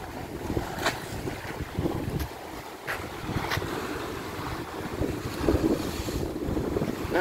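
Rough sea waves crash against a sea wall at high tide, a continuous roar with surging bursts, mixed with strong wind buffeting the microphone.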